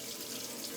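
Warm water runs from a tap into a sink in a close, steady, hissing stream that fills the whole moment without breaks.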